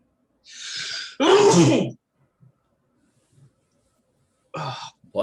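A single sharp sneeze bursts out close by during a tabletop role-playing session, preceded by a quick breathy intake and followed by quiet, then a person begins to speak.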